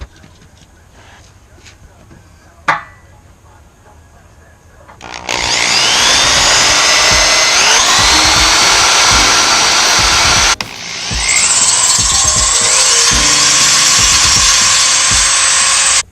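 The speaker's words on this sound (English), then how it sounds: "I'll drill a little bit there, and then I'll take it off and finish the drilling the hole" Power drill boring holes for light bar brackets, starting after a quiet stretch with a sharp knock, then two loud sustained runs of whining, grinding drilling separated by a brief stop.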